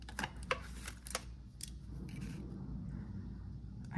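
Scissors snip close up through paper stamp pieces, several sharp cuts in the first couple of seconds followed by softer rustling and handling of paper.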